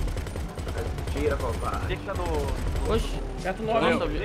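Bursts of gunfire ring out during a GTA V pirate war at sea, a naval battle against a mercenary gang, coming in repeated rattling volleys under excited voices talking over the shooting.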